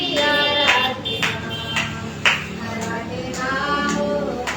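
A worshipping congregation claps steady, rhythmic beats in time with loud live devotional music at a Sunday church meeting, the claps sharp and repeated over continuous singing and instruments.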